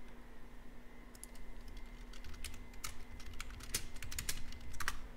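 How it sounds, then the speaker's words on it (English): Fingers type on a computer keyboard at a home work desk during live day trading, a steady run of close, crisp key clicks that thickens into quicker bursts toward the end, with no speech. "Again, yes, you do hear me typing."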